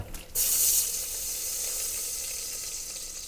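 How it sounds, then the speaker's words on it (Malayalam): Ghee hisses and sizzles as it hits a hot pan, a sudden loud burst settling into a steady, softer sizzle close by, with no talking. "ചട്ടി ചൂടായിട്ടുണ്ട് എനിക്ക് ഇനി നെയ്യ് ഒഴിക്കാൻ പോകണം കേട്ടോ"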